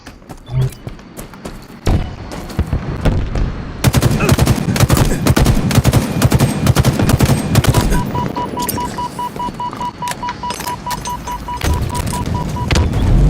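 Rapid automatic gunfire from a Halo Infinite multiplayer match, with dense bursts of shots rattling continuously after a brief quieter opening, punctuated by sharp impacts and game effects.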